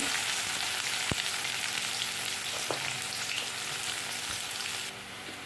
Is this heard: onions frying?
yes